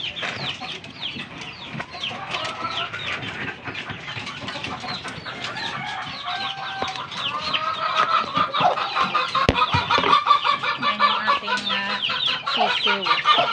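Chicks cheep steadily in a busy overlapping chorus of high peeps, with occasional louder chicken clucks mixed in, close by and continuous, and no voices.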